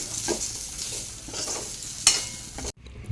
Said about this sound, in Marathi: लसूण अगदी दोन तीन मिनिटात भाजायचे